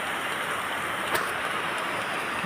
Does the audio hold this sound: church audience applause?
no